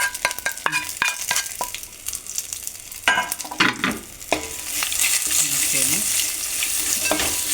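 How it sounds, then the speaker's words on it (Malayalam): A spoon stirs pre-fried ingredients for a beef roast in a pan, giving scraping strokes in the first seconds, then a steady close sizzle that grows louder and continues without talk. "മൂപ്പിച്ച് വെച്ചിരിക്കുന്ന എടുത്ത് ഇട്ട് ഇളക്കിയാണ്"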